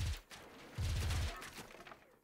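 Gunfire in the sci-fi shooter video game WarSphere comes as quick rapid-fire bursts with low thumping pulses in two short volleys. It is fairly faint and ends in scattered shots.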